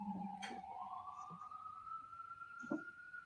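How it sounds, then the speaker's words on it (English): An ambulance siren passes on a New York street, heard faint and distant as a steady rising and then sustained wail under light background noise. "There's an ambulance going by."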